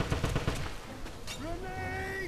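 A quick burst of Wolfenstein video game gunfire pops at the start, then gives way to a sustained rising tonal whine over a rumbling game background.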